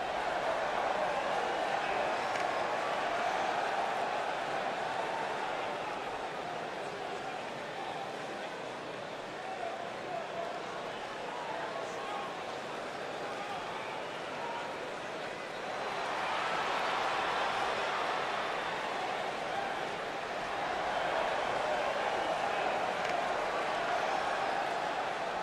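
A wrestling arena crowd at a Buddy Rogers versus Swede Hansen match keeps up a steady roar of cheering and chatter, swelling louder around the middle and again near the end, with a ring announcer's voice over it.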